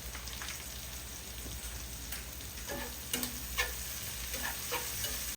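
Butter sizzling in a hot pan with shrimp and salmon, a steady close frying crackle with scattered pops and stirring scrapes, no talking.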